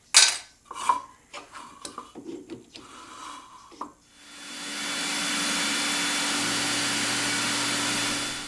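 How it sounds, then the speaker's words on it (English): Running steadily for several seconds, a vacuum cleaner nozzle hooked up beside a pen blank being trimmed gives a loud, even rushing whine after some earlier clatter and tapping in the woodworking shop. "you can't help but notice I got a vacuum cleaner nozzle hooked up there"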